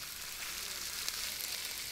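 Salmon frying in a pan in the Cooking Simulator video game, a steady, dense sizzle that holds even and fairly loud throughout with no talking.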